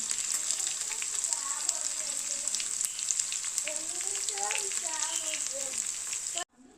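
Chopped onions, cumin seeds and urad dal fry in hot oil, giving a dense, continuous close sizzle like steady rain with scattered crackles and a faint voice beneath, ending abruptly.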